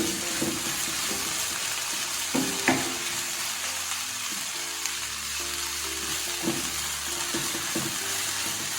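Soya fry masala sizzling in a pan as it is stirred up from the bottom, a close, steady frying hiss broken by spoon scrapes and clacks against the pan.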